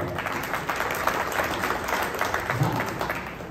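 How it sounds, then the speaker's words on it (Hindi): Audience clapping at a Jamiat political gathering in Pune, a moderately faint, steady wash of applause with a few louder claps, lasting a few seconds. "यहां जोरदार तालियां बजाए"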